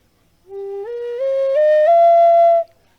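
A breathy Native American-style flute tone, a half-holed flat note, rising in small steps across several held notes, clear and close, played alone for about two seconds.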